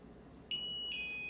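An Opticon OPN-2002 Bluetooth barcode scanner turning off gives two short, high, pure-tone beeps in quick succession, the second one pitched slightly lower, heard clearly over a faint background hum.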